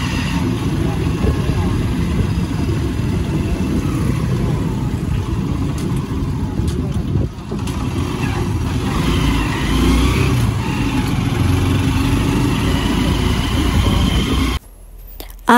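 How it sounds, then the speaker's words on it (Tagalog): A motorized tricycle's engine drones steadily while riding, a rough continuous close rumble with road noise, ending abruptly near the end. "nakasakay na kami ng tricycle ni Papa"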